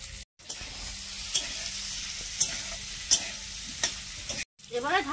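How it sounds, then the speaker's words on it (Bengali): Potato pieces and ridge gourd sizzling in hot oil in a village kitchen pan, a steady fry hiss broken by several sharp scraping stirs of a spatula, close and fairly loud. "ওই তেলে আলু আর ঝিঙাটা ভেজে নেব।"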